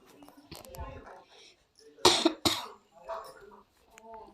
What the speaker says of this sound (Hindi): और अभी जब मैं वॉइस ओवर कर रही हूँ तो थोड़ा थोड़ा मुझे भी खांसी आ रही है।